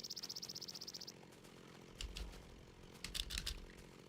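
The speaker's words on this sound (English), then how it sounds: "I like how the chainsaw makes a sound." Chainsaw from the Tekkit Classic Minecraft modpack: a rapid, evenly pulsing buzz for about a second, followed by several louder, scattered crunching and chopping bursts, fairly close, with no talk.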